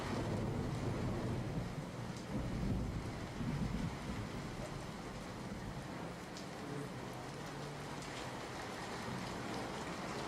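Heavy monsoon rain pours steadily in Amreli district, Gujarat, with low rolls of thunder rumbling beneath a dense, constant roar of falling water, loud and close throughout with no one speaking.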